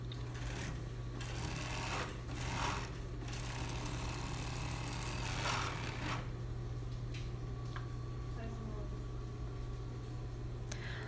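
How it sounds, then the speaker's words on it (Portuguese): A sewing machine runs steadily, stitching fabric over a smooth bra cup, a continuous close mechanical whir with a constant hum and brief rattling pauses between runs. "você pode deixar ele assim, ou passar uma costura na reta ainda, né, fazendo o formato certinho do bojo"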